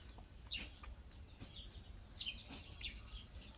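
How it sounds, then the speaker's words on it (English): Ibis chicks chirp in short, high bursts scattered through a few seconds, with several separate calls close by over a faint background hiss. "Sound of the Ibis, birds chirping away"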